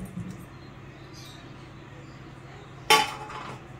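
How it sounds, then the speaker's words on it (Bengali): Metal cookware clinks in a quiet kitchen as marinated rohu fish and potatoes go into a kadai, with a couple of small clinks early on and then one sharp, loud metallic clank near the end. "আর মেখে রাখা মাছ ও আলুটাকে আমি কড়াইয়ে দিয়ে দিলাম।"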